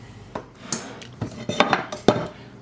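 Pans get handled in a kitchen: several sharp metallic clanks and knocks, spaced irregularly and close by, with quiet room background between them.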